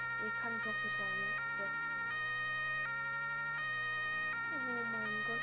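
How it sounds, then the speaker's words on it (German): Wailing two-tone emergency siren of a new vehicle siren in the Roblox game, set in Hamburg, cycling steadily and loud throughout, with a voice talking over it. "Wir fahren auf jeden Fall mit der neuen Sirene."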